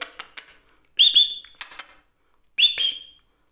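A pet bird whistles twice up close, each a short bright rising whistle, separated by soft clicks and pauses in an otherwise quiet room.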